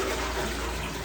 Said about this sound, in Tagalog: Try natin i-flush.